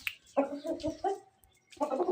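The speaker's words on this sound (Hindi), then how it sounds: "अब जावा अपनी मुर्गियों को लेके घूमेगा यहाँ पर" Chickens cluck nearby in short, throaty bursts, a run of clucks, a pause, then more clucking.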